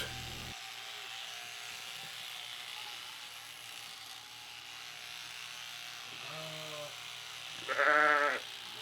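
Two short sheep bleats stand out near the end, the second louder, over a steady hum of background noise.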